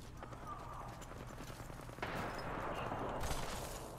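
Gunshots in a video game, rapid crackling bursts of fire amid busy game ambience, growing denser and louder partway through.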